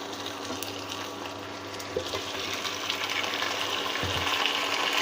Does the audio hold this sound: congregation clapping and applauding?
no